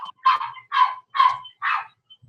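A dog barks five times in a steady run, sharp and fairly close, with brief silence between barks and no talking.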